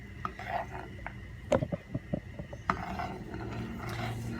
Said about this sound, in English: So that's what we're gonna be doing right now, is stirring our grits.